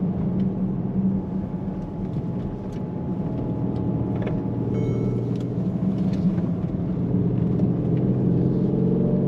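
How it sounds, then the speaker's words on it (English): A Mercedes-Benz GLS 63 AMG with 4MATIC all-wheel drive climbs a hill, its engine and road noise forming a steady, loud, low rumble that holds throughout with no one speaking. "So let's take it up the hill."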